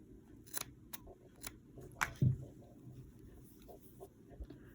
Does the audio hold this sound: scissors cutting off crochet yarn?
yes